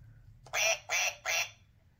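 An interactive Fisher Price Animal Adventure toy gives three loud electronic duck quacks in an even rhythm, close and clear against a quiet background.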